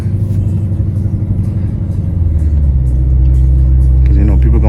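Lamborghini Urus Performante engine accelerating, a loud deep rumble building into a stronger, steady roar heard from inside the car, with a voice briefly at the end.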